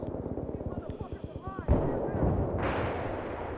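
Battlefield 3 firefight on Tehran Highway: a rapid string of sharp gunshots gives way to a heavy close explosion boom, then a sustained rumble and roar of battle noise.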